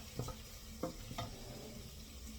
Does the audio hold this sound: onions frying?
yes